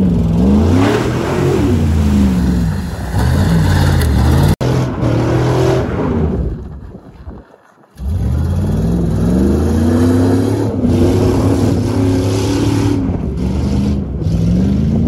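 A pickup or ATV with a loose muffler revs hard and close, the engine roaring with rising and falling pitch, cutting out briefly to a near-silent lull around the middle before surging back loud.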